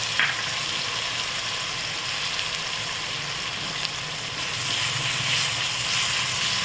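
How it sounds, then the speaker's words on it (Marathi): Onion sautéing in a pan with ginger-garlic paste for goat trotter soup, a steady close sizzle and crackle with faint stirring, continuous and even with no voices. "त्यानंतर कांदा परतून घ्यायचा।"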